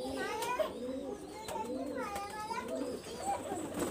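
A female tiger dab pigeon coos softly in short, low phrases, with voices talking nearby over it.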